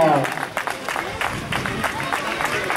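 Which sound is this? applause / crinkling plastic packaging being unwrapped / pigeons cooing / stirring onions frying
applause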